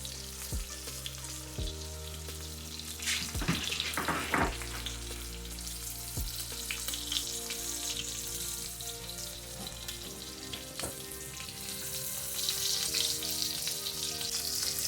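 A ribeye steak fries in a pan with a steady, moderate sizzle and crackle, punctuated by a few sharp clicks and knocks of utensils, with the hiss swelling brighter toward the end.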